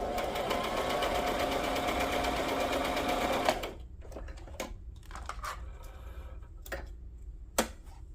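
A sewing machine runs steadily while stitching pages of a tea-bag junk journal, its loud whir lasting a few seconds before stopping abruptly. Scattered clicks and light handling noises follow.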